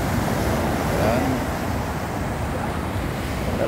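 Big ocean waves break as surf at San Juan, La Union, a steady, loud, continuous roar of wash and churn blended with wind rumble on the microphone.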